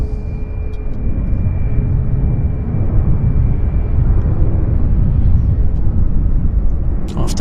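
An Airbus airliner takes off at Vancouver airport with a loud, close, continuous rumbling roar that builds and stays strong throughout, with faint voices nearby.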